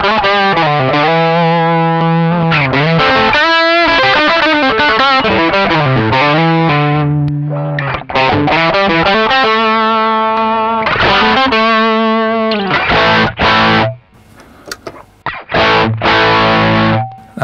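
A heavily overdriven electric guitar plays loud chords and riffs through a Way Huge Camel Toe Triple Overdrive MkII pedal, continuous and gritty, with brief pauses near the end.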